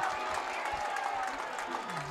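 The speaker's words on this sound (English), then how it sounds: "The crowd erupts." A crowd cheers and roars steadily at a high school homecoming football game, Milton Hershey against East Pennsboro, a dense wash of many voices and scattered clapping that holds at an even, loud level throughout.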